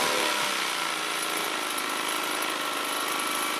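Buffing wheel polishing acrylic with fine blue compound at about 1500 rpm, a continuous loud broadband motor-and-wheel roar that stays steady throughout, close up and with no talk.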